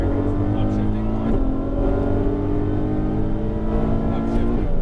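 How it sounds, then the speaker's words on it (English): A Ferrari F12 V12 accelerating out of a corner on a racetrack, its loud engine note droning steadily and rising in pitch through the gears, with someone talking over the engine throughout. "Now accelerating out, open the wheel, there it goes"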